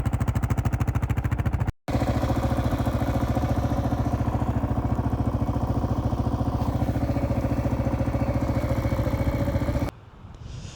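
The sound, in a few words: Kawasaki KLR650 motorcycle riding in snow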